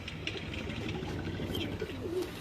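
Breeder pigeons coo softly in a loft, low rolling calls under faint background noise.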